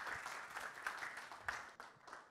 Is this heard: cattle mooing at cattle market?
no